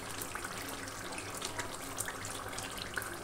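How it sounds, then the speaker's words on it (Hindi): Water pours steadily into kebab gravy in a pot, making a soft continuous splashing rush, faint and even throughout with no voices. "तो अब जो है मैं इसमें पानी डालूंगी"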